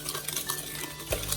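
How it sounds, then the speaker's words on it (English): A whisk works through wet banana bread batter in a bowl, quiet rhythmic clinking and scraping in a short burst. "you just want to whisk until incorporated"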